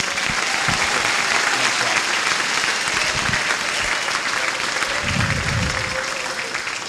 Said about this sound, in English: if we could give Sophia a round of applause